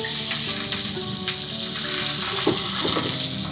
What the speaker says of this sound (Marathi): ओके, स्टारफुल, कढीपत्ता, हा गेला कढीपत्ता, ते ऑनियन टाकलेलं आहे